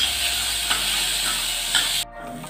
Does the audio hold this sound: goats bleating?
no